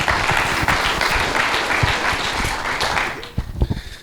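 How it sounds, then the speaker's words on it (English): An audience at a local AI meetup gives a loud round of applause, dense clapping sustained for several seconds before thinning out into a few scattered claps at the end. "Let's give him a round of applause for being a winner."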